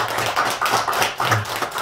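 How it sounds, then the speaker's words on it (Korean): A church congregation breaks into a short burst of thankful clapping at a Sunday service. The many hands sound close and fairly loud, with no voices over them. "우리 감사의 박수 한번 하겠습니다"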